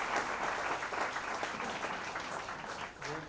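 Audience applause at a large annual cultural festival event, a sustained wash of clapping from a crowd, fairly distant and even, easing slightly toward the end.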